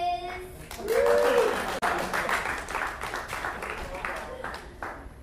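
Audience at a comedy show keeps clapping in a steady wash of applause, with a voice briefly heard over it near the start.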